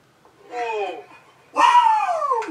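A dog gives two drawn-out, whining barks with a yelping, howl-like rise and fall. The second is louder and longer, and the dog is heard alone and close.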